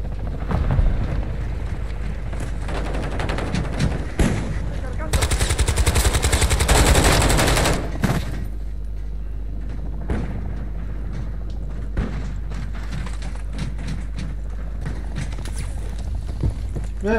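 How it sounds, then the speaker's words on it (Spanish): A grenade goes off amid sustained gunfire in Call of Duty Modern Warfare III Invasion mode, with loud bursts of automatic fire, a dense blast-like crackle midway, and scattered shots continuing afterward, all under steady game background noise. "¡Tiro una granada!"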